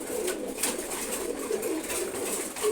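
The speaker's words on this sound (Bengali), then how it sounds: "খুবই সুন্দর একটা মাদি কবুতর।" A female pigeon cooing softly and repeatedly at close range, low murmuring coos over a steady background hiss.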